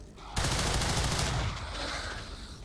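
A burst of gunfire rings out in XCOM 2, opening abruptly with a loud rapid volley that rattles for about a second before trailing off into a fading echo.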